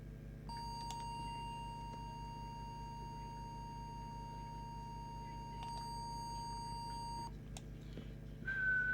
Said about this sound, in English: Let's give it a whistle test.